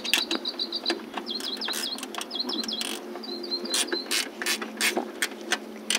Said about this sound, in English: I have, again, ratchet wrench, or you could use a gun, whatever you prefer